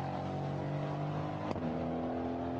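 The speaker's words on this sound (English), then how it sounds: "Aston Martins sound great, lovely gentle rumble, not quite as harsh as the V8 Racing rumble and the Camaros." Aston Martin GT4 race car at Zandvoort circuit during qualifying, its engine giving a steady, gentle low rumble with a sustained droning tone and a brief click midway, heard up close and alone.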